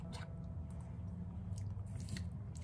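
Close, quiet chewing of a lettuce-wrapped bite of food, soft wet squishes and faint crunches over a low steady background hum, with no talk.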